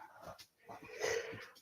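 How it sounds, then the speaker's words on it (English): One of two dogs whimpers and breathes close by in a house, soft nasal whines and short breaths in uneven bursts, fairly quiet. "I like your two dogs."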